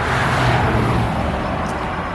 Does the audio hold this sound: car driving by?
yes